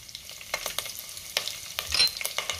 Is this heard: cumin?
yes